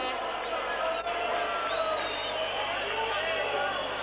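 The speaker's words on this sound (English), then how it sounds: "Rather stunned Belgian crowd." Belgian football crowd in a stadium at a European Cup tie, a broad steady murmur of many voices with no cheering, heard under commentary.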